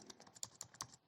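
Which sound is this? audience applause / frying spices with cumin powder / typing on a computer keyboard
typing on a computer keyboard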